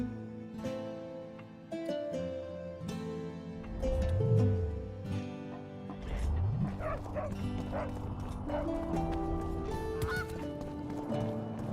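Repeated goose-like honks and squawks from a bird in The Witcher 2: Assassins of Kings, over a busy game soundtrack, with music and clattering effects throughout, fairly loud and up close.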